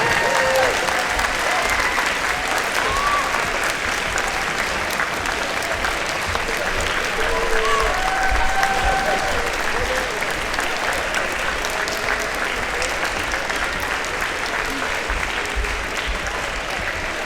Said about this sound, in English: Let's give them a big round of applause for their dedication.